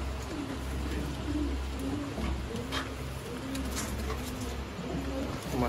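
Golden pigeons coo in repeated low, throaty phrases at a Sialkot pigeon sale, with faint chirps and background noise around them.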